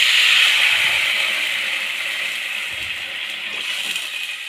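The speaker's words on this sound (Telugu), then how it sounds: "కప్ సేమియాకి కప్పు వాటర్ పోసుకోవాలి" Water pours steadily into a pan to cook semiya for kesari, a continuous close hissing gush that softens slightly toward the end, with no talking.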